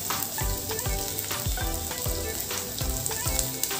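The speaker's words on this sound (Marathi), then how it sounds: "सोनेरी रंगाचे होईपर्यंत आपल्याला हे परतून घ्यायचे आहे।" Roughly chopped onions, two medium ones, frying in hot oil over a medium flame for butter chicken, a steady loud sizzle broken by repeated scrapes and stirring knocks at a fairly even pace.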